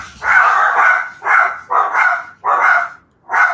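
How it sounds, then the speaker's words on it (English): Several dogs bark at a mailman, loud close bow-wow barks coming in a rapid series of about six bursts with short gaps between them and no talking. "Why do you guys always bark at that mailman?"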